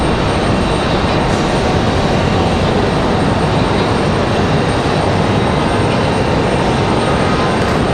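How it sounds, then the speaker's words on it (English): A Boeing 757 departs Raleigh-Durham International Airport for Atlanta. Its engines produce a loud, sustained, dense roar that stays even from start to finish, close by and free of any talking. "This 757 departure headed to Atlanta."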